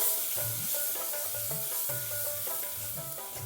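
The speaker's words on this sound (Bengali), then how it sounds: "মশলাটাকে এবারে ভালো করে কষিয়ে নিচ্ছি" Ground red chilli, cumin and coriander with a splash of water sizzling in a pan as they are cooked down, a dense hiss under rhythmic spatula scrapes, with faint tonal background music and no talk.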